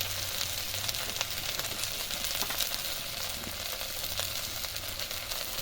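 Chopped tomato and salt frying in a pan for a fish curry: a steady, even sizzle with crackling pops running throughout, close and continuous without talk.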